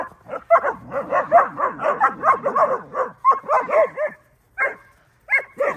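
A puppy yapping and whimpering close by in a rapid, continuous string of high-pitched barks and whines, then tapering into a few scattered yips with short pauses between them.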